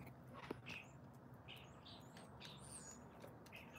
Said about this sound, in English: They're all doing little squawks now.